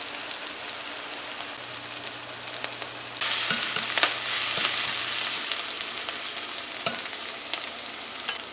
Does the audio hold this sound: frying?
yes